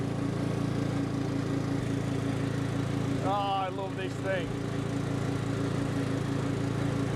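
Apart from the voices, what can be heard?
ride-on lawn mower engine running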